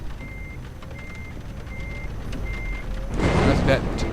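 Reversing beeper on a truck in Euro Truck Simulator 2 with ProMods and RusMap, four even evenly spaced beeps over engine hum, then a louder hiss like an air brake near the end.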